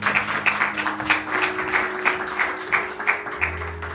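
A church congregation applauds with steady, moderately loud clapping that carries on evenly throughout, a low organ-like tone sustained underneath.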